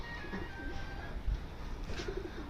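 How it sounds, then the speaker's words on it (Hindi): Pigeons coo softly in repeated low, rolling calls, several birds nearby against a murmuring background. "ये पड़ोसी के मिल रहे हैं 15-20 कबूतर"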